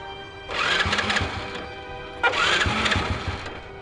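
A motorcycle starter cranks the engine in two separate bursts, each about a second long, with a short pause between them, and the engine never catches.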